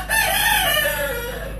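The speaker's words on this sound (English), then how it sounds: "Where is the flipping chicken?" A rooster crows once at the Quan Thang old house in Hoi An, Vietnam: a close, loud, drawn-out cock-a-doodle-doo that fills the whole moment with no talking over it.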